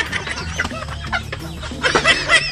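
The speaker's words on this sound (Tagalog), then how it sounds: "Mga manok rin naman to ni Sunny." Chickens clucking close by as they peck at pig feed on a farm, several short, busy clucks in quick bursts, loudest near the end, with no talk.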